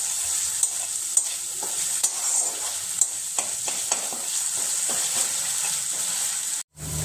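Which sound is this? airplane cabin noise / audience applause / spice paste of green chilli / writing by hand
spice paste of green chilli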